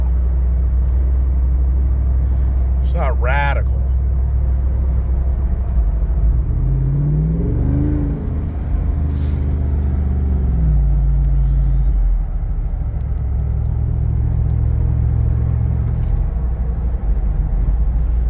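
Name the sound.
Jeep engine bogging while driving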